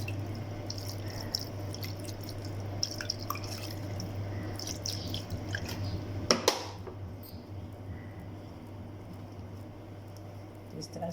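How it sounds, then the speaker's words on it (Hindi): Small amounts of water drip and splash softly while curdled chhena for rasgulla is rinsed of vinegar in a kitchen, with faint sparse drops and one brief clatter over a low steady hum. "इसको हम जो है थोड़े पानी से धोएंगे ताकि जो इसके अंदर की जो खटास है हमारे सिरके की वो निकल जाए।"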